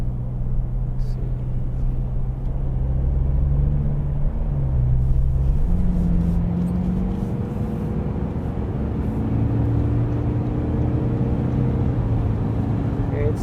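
A 2024 Toyota Land Cruiser's 2.8 D-4D diesel engine drones steadily at around highway speed, a low, continuous rumble with mild rises in pitch as it pulls, heard from inside the cabin.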